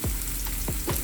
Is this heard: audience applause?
no